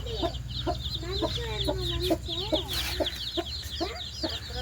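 Several free-range Indian country chickens cluck in short repeated bursts, close by, with thin chirps from other birds above them.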